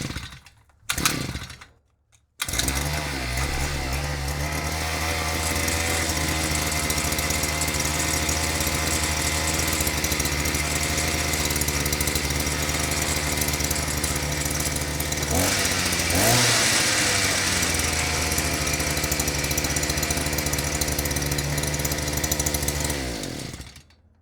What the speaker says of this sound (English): So let's go ahead and start this thing up and let it run.